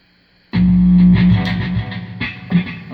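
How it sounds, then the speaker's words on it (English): A Fender Stratocaster electric guitar plays through a Line 6 Ampero with distortion: a loud, gritty chord bursts in after a short silence and rings on, followed by two more struck chords near the end. "maybe we'll go back to the Strat for dirty first"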